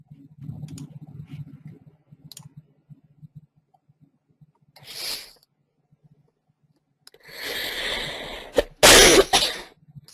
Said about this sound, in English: Sorry for coughing in your ear.